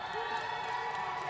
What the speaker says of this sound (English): Crowd's getting behind her, 259 pounds